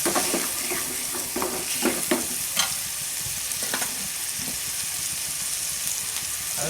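Chickpeas with turmeric, chili powder and salt are sautéed in oil for a desi chana masala: a close, constant sizzle with repeated spoon scrapes, busier at the start and settling into a steady fry.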